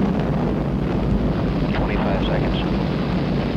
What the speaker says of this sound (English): Liftoff. We have liftoff with Apollo 14.